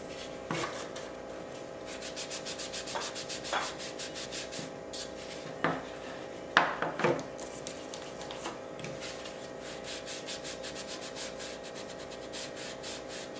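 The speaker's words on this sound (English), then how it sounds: "take your finger dabber sponge and just rub it in your ink, and then you're going to go around all of the edges with it" A finger dabber sponge is rubbed with ink around the edges of a sign letter, making soft, close scratchy strokes in a fast, even rhythm with a few louder scrapes.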